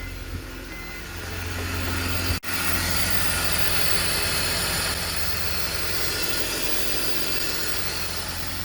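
A BMW 325i E46 engine with a repaired DISA valve and vacuum hoses runs at a steady, smooth idle close by, broken once by a short click or dropout, with no talking.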